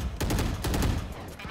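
Rapid Frenzy pistol fire in Valorant, several quick cracking shots in fast bursts, loud and close with a dense low rumble between them.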